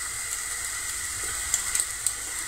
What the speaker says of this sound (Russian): Я обычно жарю на другой сковородке, но туда вот как раз не умещается